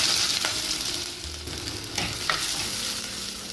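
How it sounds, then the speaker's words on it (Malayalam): Fenugreek seeds frying in hot oil for a coconut-milk fish curry, giving a steady close sizzle with soft scraping stirs and a few sharp pops, no voices. "ചൂടായ എണ്ണയിൽ ആദ്യം ഉലുവ മൂപ്പിക്കാൻ ഇടണം"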